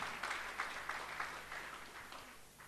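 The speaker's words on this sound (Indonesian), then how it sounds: "Mari berikan tepuk tanganmu." Applause from a church congregation at a Sunday worship service, a soft, steady patter of many hands clapping at a distance, fairly faint and fading slightly toward the end.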